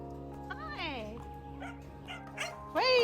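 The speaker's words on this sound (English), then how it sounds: "Crazy puppies." Puppies at a dog rescue shelter yip, whimper and give small high barks in scattered bursts, fairly close, over a steady background hum and mixed with voices.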